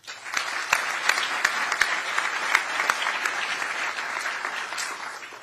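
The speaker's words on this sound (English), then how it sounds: "applause." Applause from an audience at an appointment ceremony, steady and sustained throughout, with a few sharper individual claps standing out near the front.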